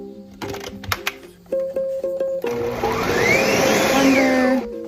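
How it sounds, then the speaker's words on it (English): Blender pulverizing roasted salsa verde: a few short motor pulses and clatter, then a sustained loud whirring run with rising and falling pitch as the contents churn, no talk. "before I put it in the blender and then pulverize it to make it all nice and smooth"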